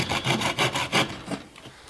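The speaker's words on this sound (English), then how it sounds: "I feel like I'm sawing more to get not as far as I did with the Silky." A Bahco Laplander folding hand saw cuts through wood in quick, rhythmic rasping strokes, close up, with the strokes fading out near the end.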